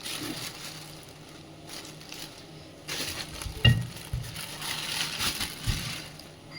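Potatoes sizzling as they fry in a hot pan, with occasional scraping and clinking as they are stirred, close up.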